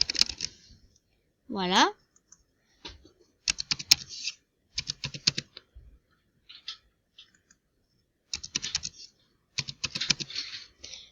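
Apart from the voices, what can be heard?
typing a username on a computer keyboard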